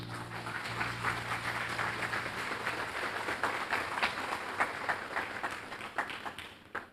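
A church congregation applauds together in a dense, steady wash of clapping that lasts throughout and thins slightly at the end, with faint voices mixed in beneath it.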